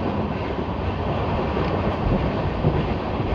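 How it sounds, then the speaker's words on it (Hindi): A Lalkuan–Howrah passenger train runs at speed, giving a steady, loud rumble of wheels and rushing wind that holds even throughout, with no voices. "देखते हैं कितनी स्पीड में जो है शाहगढ़ को ट्रेन स्किप करती है"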